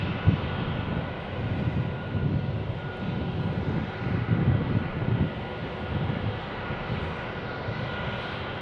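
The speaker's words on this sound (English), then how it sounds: "the A319 says hello. Taxiing into, I believe," Airbus A319 jet airliner taxiing at Tucson International Airport, a steady broadband engine rumble with a low roar throughout, moderately distant and continuous, no talk over it.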